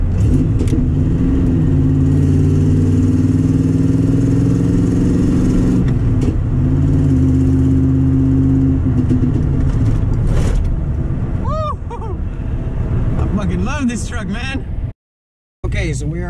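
A manual-transmission car drives with a loud, steady engine drone from inside the cabin, its pitch shifting a few times as the car changes speed, then road noise and faint rattles before the sound cuts out briefly.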